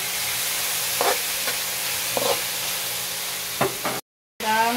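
Garlic and onion sauté in a hot pan with a steady, broad sizzle, broken by a few scraping stirs. A short silent gap comes near the end, then the frying resumes.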